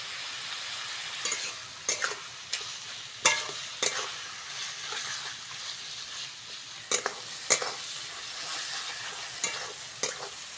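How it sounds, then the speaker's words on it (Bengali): Onions fry with salt in a pan for a Bengali rui fish kalia. A soft, steady sizzle runs throughout, broken by sharp scraping knocks as a spoon stirs at irregular intervals. No one talks. "পেঁয়াজটা ভালো করে ভেজে নিয়েছি"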